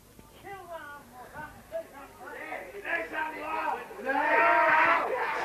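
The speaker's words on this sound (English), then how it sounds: "Crowd very vocal down this end" Spectators at a 1992 A Grade major semi-final rugby league match between Sand Goannas and Longreach shout and cheer, swelling into a loud, sustained roar near the end, close by and mixed with voices.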